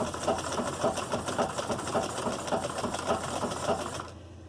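A sewing machine stitches a leggings seam with a steady, close, rhythmic mechanical whir that stops abruptly just before the end.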